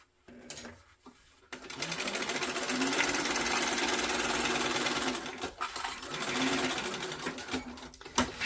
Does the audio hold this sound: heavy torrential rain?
no